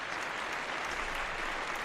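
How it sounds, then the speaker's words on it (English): A brief burst of audience applause at the close of a live show, dense and steady clapping throughout with no clear speech over it. "big round of applause for Marie."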